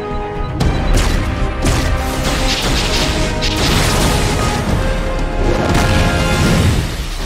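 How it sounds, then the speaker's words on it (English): An artillery strike hits in a DC Universe Online cinematic: loud, continuous rumbling explosions with repeated crashing impacts piling on top of one another for several seconds. "Luthor, while I call down some artillery."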